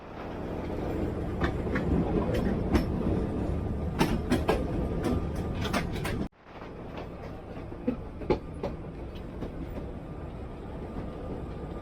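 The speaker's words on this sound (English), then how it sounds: "Tram to Sóller from Puerto to Sóller." A historic tram rolls from Puerto de Sóller to Sóller on Mallorca, giving a steady rumble with repeated rail clicks and clacks that break off sharply halfway, then resume more quietly.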